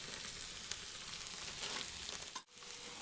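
Ginger and garlic sizzle and fry in a pan, a soft steady crackling hiss with a brief stir or clatter near the end and no talking.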